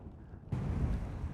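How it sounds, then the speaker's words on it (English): Strong wind buffets a Scottish mountain summit during horizontal rain, rising abruptly into a loud, steady roar after a quieter opening moment, with no voices. "windy with horizontal rain."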